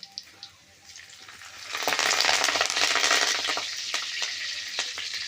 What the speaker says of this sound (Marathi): हा कढीपत्ता टाकलेला आहे आणि लगेच तेल खूप जोरात होतं